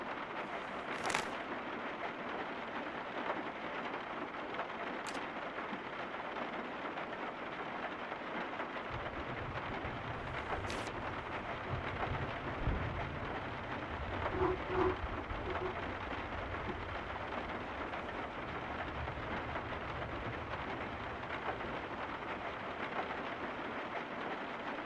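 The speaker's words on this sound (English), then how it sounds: "This rain is really not helping our cause right now." Heavy rain pours down in a video game as a continuous wash of falling drops, with a deeper rumble rising after the first several seconds and a few sharp bright ticks scattered across the long stretch.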